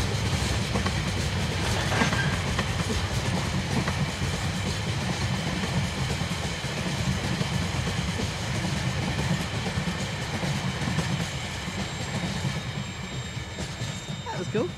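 A long train of empty carriages rolls past close by with a continuous low rumble and a steady clatter of wheels on the rails, holding loud and even for the whole stretch.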